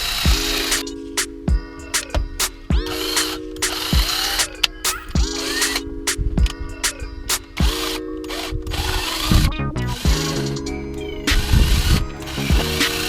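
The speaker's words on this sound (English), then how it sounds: "Drilling in on the sides there. Use a 7/64" drill bit here." A cordless drill with a 7/64 inch bit bores pilot holes into the side of a Toyota Tacoma's tech deck shelf, whirring up in repeated short bursts with clicks and clatter between them, close and loud, with no talking.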